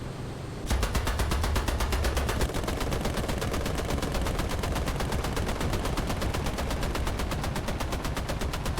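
Sustained rapid automatic gunfire from War Thunder, a steady fast stream of loud, close shots with no gaps, following a brief quieter lead-in.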